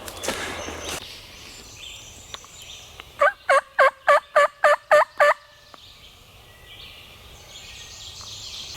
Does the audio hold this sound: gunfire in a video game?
no